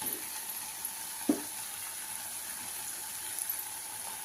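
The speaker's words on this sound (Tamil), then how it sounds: "தேங்காய் சும்மா ரொம்ப வதங்கக்கூடாதுங்க, கொஞ்சமாக வதங்கினா போதும்." Coconut being sautéed with onions in a pan for a Tamil bean curry, a faint steady sizzle with one brief clunk of stirring early on, no voices.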